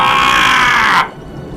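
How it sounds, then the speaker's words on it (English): Flood water surging in an animated story, a loud broad rushing roar that cuts off abruptly after about a second, leaving a low rumble. "was shocked to see the flood coming towards him"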